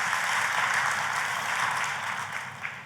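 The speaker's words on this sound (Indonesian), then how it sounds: "Kita kasih tepuk tangan yang paling meriah buat Tuhan kita." A church congregation applauds in worship, a broad steady wash of clapping filling the space at moderate distance and tapering slightly toward the end, with no voices standing out.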